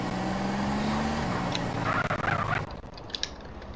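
Car engine from GTA San Andreas, a steady low drone of a game vehicle driving, fading out partway through as other game sounds take over.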